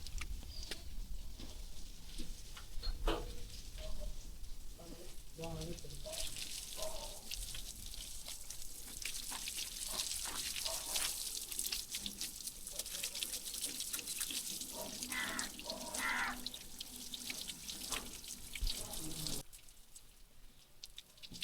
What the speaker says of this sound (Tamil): தண்ணி வெளியே வருது.